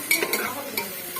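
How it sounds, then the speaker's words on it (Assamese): Pulao with carrots and beans being stir-fried, a few quick close scrapes and clinks of a spoon in the pan over a soft sizzle. "এয়া পোলাও ভাজি আছো বৰ্তমান গাজৰ আৰু বিনখিনি"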